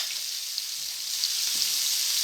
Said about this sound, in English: Let's saute these onions.